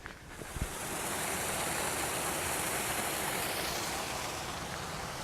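A waterfall roars in a steady, loud rush of falling water that builds within the first second and holds unbroken, with no voices.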